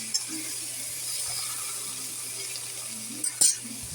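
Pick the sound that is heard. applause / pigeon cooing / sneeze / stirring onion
stirring onion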